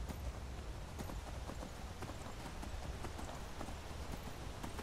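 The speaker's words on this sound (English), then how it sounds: "I have used the Convenient Horses mod to tweak the settings on my horse a little bit." Horse galloping in the Skyrim video game, a steady fast clip-clop of hooves running continuously at moderate loudness, no voices heard.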